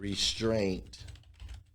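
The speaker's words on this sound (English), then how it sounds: "I'll just type it as I read it." Quick typing on a computer keyboard, a run of close, irregular key taps lasting about a second that follows a brief spoken word.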